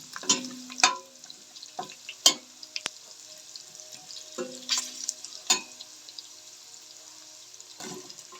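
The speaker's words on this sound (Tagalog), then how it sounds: "pumuputok yung mantika niya" Hot oil spits and pops in bursts while pork fries in a pan, with loud sharp crackles around a steady sizzle and faint clinks of a stirring spoon.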